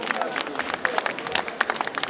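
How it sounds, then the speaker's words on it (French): An audience at an award ceremony in Paris claps in scattered, brisk bursts, heard mostly under a voice speaking over it. "Il mérite d'être applaudi, comme méritent d'être applaudis les 14 lauréats des awards qui vont poser devant vous."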